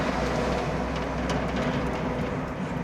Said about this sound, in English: There's a truck the size of a train coming past us.